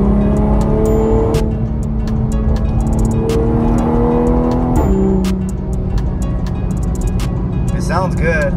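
Toyota Supra A90 fitted with a Magnaflow xmod cat-back exhaust and catless downpipe, driven in sport mode with the exhaust valve open, heard from inside with windows up: a steady loud engine drone rising in pitch through the gears.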